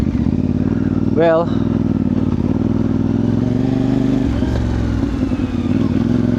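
A motorcycle engine idles and runs steadily on a rough mountain road near the summit of Mount Atugo in Ifugao, with a low, continuous drone throughout and someone speaking over it.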